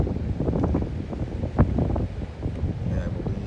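Strong wind blows across the microphone outdoors, a steady buffeting roar with gusts, heard with voices talking over it.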